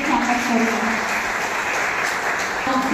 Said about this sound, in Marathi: त्यांचं आपण सर्वांनी टाळ्या वाजवून स्वागत करूया